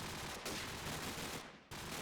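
AK rifle fire in Counter-Strike on the Backlot map, a rapid burst of loud, dense shots that cuts out briefly before resuming, with no talk over it.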